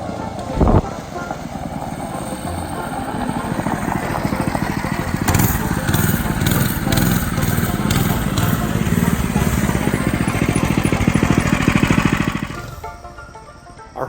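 A Mega Moto 212cc mini bike engine roars loudly and steadily while being ridden, holding a rough, buzzing drone for about twelve seconds before easing off.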